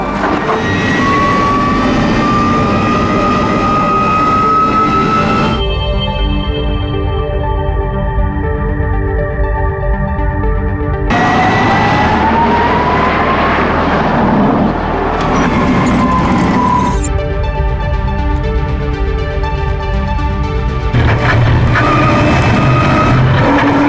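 A NIO EP9 electric supercar laps Circuit Paul Ricard, a loud, continuous high-pitched electric whine rising and falling with speed, with tire noise and brief breaks between passes.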